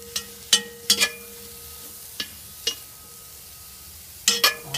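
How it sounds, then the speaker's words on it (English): Onions and mushrooms sautéing in a pan, heard as a few sharp stirring clatters and scrapes spaced irregularly over a quiet background with a soft, faint sizzle, close by. "So, get those onions and mushrooms sauteed."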